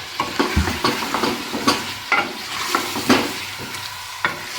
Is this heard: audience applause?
no